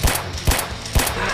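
Three sharp gunshots from a pistol in Roblox Zombie Arena ring out evenly spaced about half a second apart, loud and close, with no talking over them.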